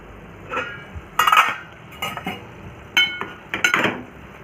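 Metal pot clinks and clatters as a lid is set on a pot of cooking padval (snake gourd) vegetable, several short sharp bursts close up with no talk.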